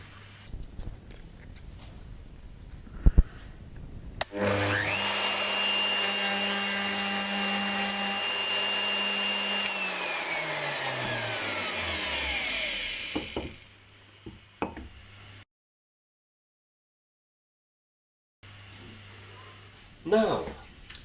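Router cutter spinning up and cutting a 6mm rabbet into the top edge of a wooden workpiece, a loud steady high whine lasting several seconds before winding down, followed by silence and a brief return of motor noise.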